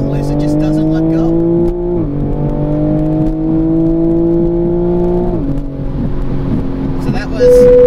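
A 2020 Toyota Supra engine pulls hard at speed above 60 mph, with a loud, rising harmonic drone that climbs steadily through a couple of quick gear-shift drops, followed by a higher whine near the end.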